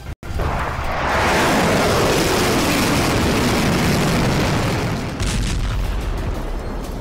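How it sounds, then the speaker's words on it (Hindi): A Russian guided bomb strikes a building in Kharkiv, a sudden massive blast followed by a long, roaring rumble and debris noise that slowly tapers over several seconds. "रूस का एक गाइडेड बम खार्किव के आसमान को चीरते हुए इस बिल्डिंग पर आ गिरा"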